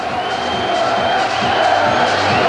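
An opening-day football crowd of nearly four thousand at Nene Park, a loud, steady roar of cheering and shouting voices filling the stadium throughout.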